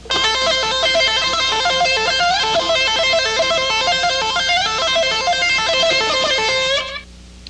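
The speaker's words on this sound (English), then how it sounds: "And with my right hand, I'm hammering with the pick, so it sounds like this." Fast electric guitar notes hammered with the pick in a rapid, even stream of bright repeating patterns, steady and loud before cutting off near the end.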